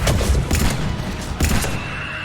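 Gunfire in Mass Effect 3 comes in loud, close bursts of rapid shots, with two dense volleys separated by a short gap and no voices.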